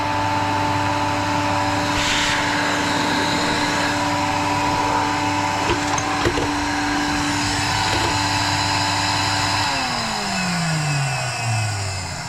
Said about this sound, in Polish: To jest dmuchawa, dlaczego on dmucha?